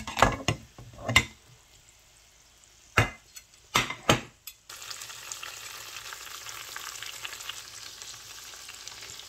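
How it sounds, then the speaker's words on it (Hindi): Red chillies fry in oil for a daal tadka: several loud scrapes and clatters of stirring, then a steady soft sizzle. "बस ऐसे 1-2 मिनट हिलाऊँगी और थोड़ी सी सुरख मिर्चें साथ डालूंगी"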